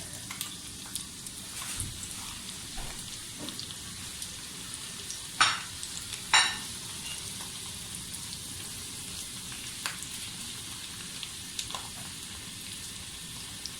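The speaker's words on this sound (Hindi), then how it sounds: "ये लहसुन हमारा ऑलरेडी थोड़ा सा ब्राउन हो चुका है, लेकिन इसको हम थोड़ा सा ज़्यादा ब्राउन करेंगे" Steady, soft sizzling of sliced garlic browning in hot oil, with a couple of brief clinks or stirring noises partway through.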